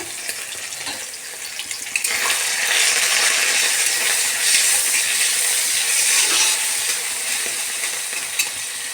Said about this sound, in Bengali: তেল গরম হয়ে গেছে, এবারে চিংড়ি মাছগুলো ভেজে নেব